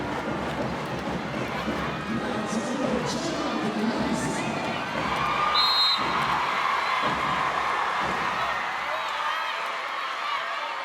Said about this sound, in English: Gemma serves to the shriek of the crowd